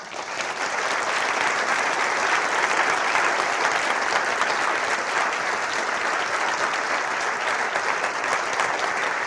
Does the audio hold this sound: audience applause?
yes